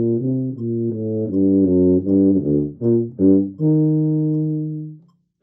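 A tuba plays the slow opening of an audition etude, a melodic line of sustained, separated notes, ending on a longer held tone that fades out.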